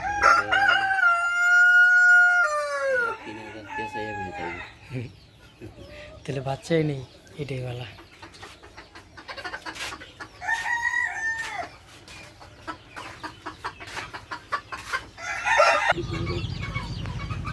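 Brahma chickens cluck and a rooster crows loudly nearby, with repeated calls rising and falling as people talk between and over the birds.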